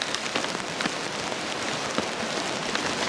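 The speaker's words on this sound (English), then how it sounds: "around New Zealand there is an unprecedented amount of rain" Steady rain falls on a tent at a campsite in New Zealand during a heavy downpour, a dense close patter of drops hitting the fabric, continuous and even with no voices.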